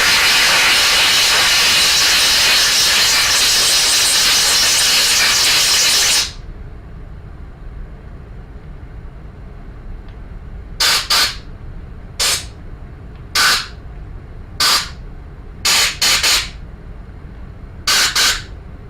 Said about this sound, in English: I'm spraying it with cleaner, and then I take the air hose and I blast it all out